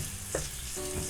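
Chopped onion hisses and sizzles in hot oil in a pan for pancit, a steady close frying crackle with a brief stirring scrape partway through.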